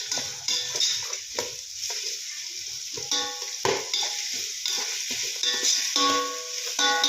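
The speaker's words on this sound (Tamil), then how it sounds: "இது வந்து ப்ரௌனிஷ் ஆகணும் அது வரை நம்ம வந்து வதக்கணும்" Ingredients for mutton biryani sautéing in a pan, a steady close sizzle broken by repeated scraping stirs of a utensil against the metal, with no voices.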